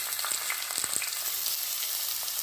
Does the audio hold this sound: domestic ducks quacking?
no